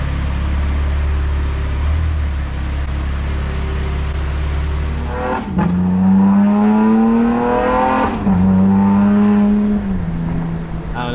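An Infiniti G35 engine revs hard through rising pitch sweeps, dropping sharply at each gear shift before climbing again, loud and close after a low steady rumble.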